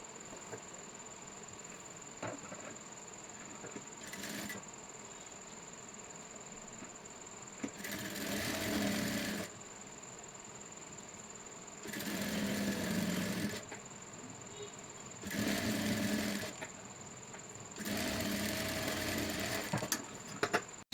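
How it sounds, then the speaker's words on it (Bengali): An electric sewing machine stitches a puff sleeve in short repeated bursts, four main runs of rapid whirring separated by quiet pauses, close and clear over a faint steady hum. "এখন মুহুরির সাইড থেকে সেলাইটি করে নেব"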